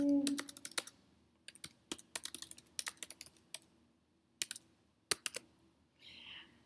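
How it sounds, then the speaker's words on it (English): Keys on a computer keyboard tap out a short note in quick irregular bursts with brief pauses, close and fairly quiet in a calm room. "I could just simply type in this note"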